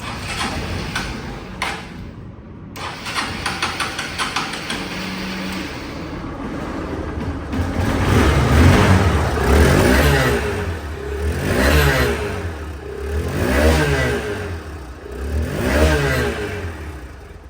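A second-hand Hero Hunk double-disc motorcycle engine idles, then revs repeatedly in rising and falling surges, loud and close, with a few mechanical clicks and rattles at the start.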